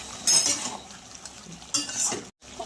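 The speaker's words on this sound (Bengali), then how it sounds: "ঢাকনা উঠিয়ে আর একবার ভালো করে নাড়াচাড়া করে নেব" Utensil stirring mutton curry in a pot, village-style goat meat being sautéed: metallic scrapes and clinks come in two clear bursts with a soft background sizzle between them, ending in a brief silence.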